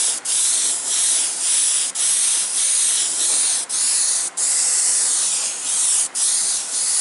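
An airbrush sprays paint in a loud, close, continuous hiss, broken by brief regular pauses as the trigger is released and pressed again.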